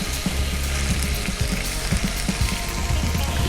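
Chicken livers frying in a pan for kosher chopped liver give a loud, steady sizzle with crackling pops, close by and with no talking.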